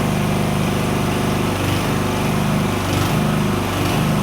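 A homemade inverter generator built on a GAB-1-P/30 unit runs with a loud, continuous buzzing engine drone and a slight pulsing flutter, close and steady, with no talking over it.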